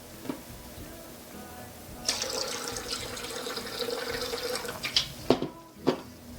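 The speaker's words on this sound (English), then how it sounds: "A little cool water." Cool water pours into a kombucha mixture in a steady, moderately loud stream for about three seconds, ending in a few splashes and knocks.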